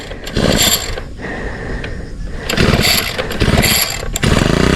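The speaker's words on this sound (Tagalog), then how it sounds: "Nako, ayaw mamanda ng ating makina." A pull-start cord is yanked repeatedly, the engine catching only briefly and failing to run, leaving rattly mechanical bursts between pulls.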